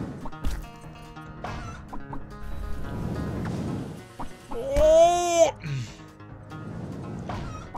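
Chickens clucking in a Czech gameplay session, a few short clucks and one squawking cackle near the middle, set among game sound effects and music while players talk over it.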